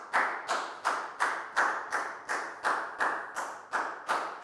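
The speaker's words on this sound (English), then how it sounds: "a big round of applause for Nadia" Steady, evenly spaced claps from a classroom of Year 4 pupils applauding a student, about eleven sharp beats in a regular rhythm, close and moderately loud with no talking.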